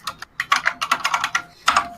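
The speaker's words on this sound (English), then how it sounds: "You hear my click-clacking keyboard?" Rapid click-clacking keystrokes on a computer keyboard come in uneven bursts of close, crisp taps with short pauses between runs, heard alone with no talking.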